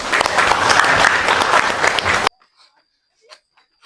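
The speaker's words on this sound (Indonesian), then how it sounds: "semangat ya, tepuk tangan yuk" A small group applauds loudly and continuously for about two seconds, then it cuts off abruptly, leaving near silence with a few faint brief sounds.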